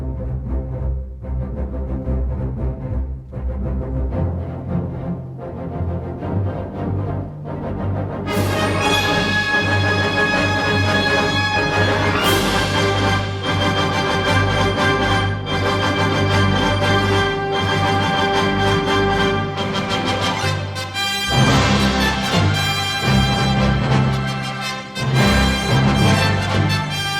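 A full orchestra plays a bold, sweeping theme with brass fanfares over strings and steady low rhythm, loud and continuous throughout.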